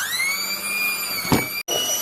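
An electric mixer beats butter for chocolate chip macadamia cookie dough, a loud, close, steady motor whine with one brief clunk and a split-second cut near the end, no talking.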